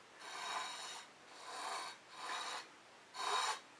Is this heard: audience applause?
no